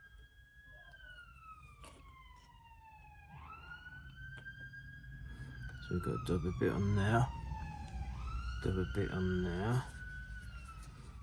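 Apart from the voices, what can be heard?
sirens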